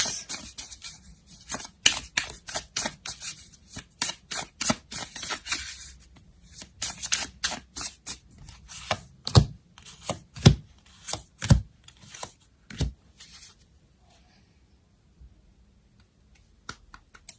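Tarot cards are shuffled and laid down one by one, a string of sharp, close slaps and riffles that arrive in uneven bursts, then thin out to a few isolated snaps before fading to quiet.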